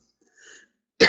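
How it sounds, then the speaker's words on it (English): A single abrupt, loud cough bursts out after a faint brief tone, sharp and close. "the cough is still there"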